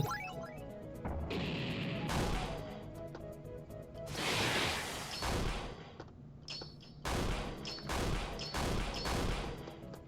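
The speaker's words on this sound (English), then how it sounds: "Cannon shot!" A loud game battle: booming cannon-like blasts and crashing impacts in quick bursts, with sharp metallic hits between them.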